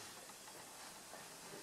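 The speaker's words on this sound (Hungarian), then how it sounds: "Először is pezseg." Thick vinegar poured onto baking soda fizzes steadily, releasing carbon dioxide gas as an even, faint, close hiss with no talk over it.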